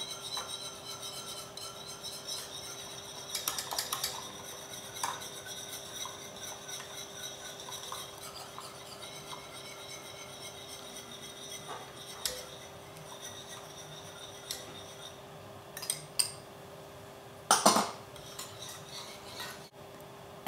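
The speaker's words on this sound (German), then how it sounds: "gebt ihr jetzt langsam das Eigelb in die heiße Milch und rührt es sorgfältig unter." Egg yolk being stirred into hot milk for vanilla sauce, a steady soft scraping and rubbing of a spoon or whisk in a pot, with a few louder clinks and knocks against the side, fairly close and with no talk.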